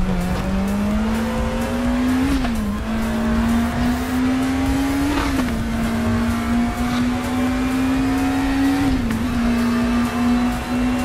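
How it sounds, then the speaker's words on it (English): A race car engine drones loud and steady in an online racing video game, its pitch climbing gradually and dipping briefly at each of three gear shifts, with faint tire squeal underneath. "Short shift straight to second there. The gearbox can take it."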